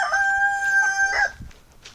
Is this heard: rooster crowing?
yes